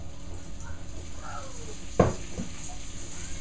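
Beef browning in oil in a pan for a slow cooker casserole gives a steady low sizzle throughout, with one brief louder clatter of stirring midway.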